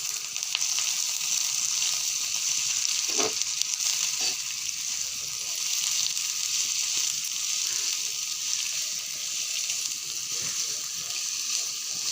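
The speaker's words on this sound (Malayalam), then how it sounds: "അപ്പോൾ അതിലേക്ക് നമുക്ക് അരിഞ്ഞ കാബേജ് ഇട്ട് കൊടുക്കാം." Chopped cabbage fries in a pan, a steady hissing sizzle filling the whole stretch, with a few soft knocks and stirring sounds close by and no speech.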